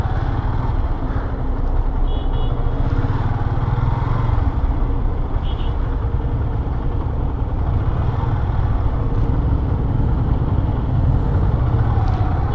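Motorcycle ride through busy road traffic, a steady engine drone and rumble with surrounding vehicle noise and a few faint horn beeps, loud and continuous throughout.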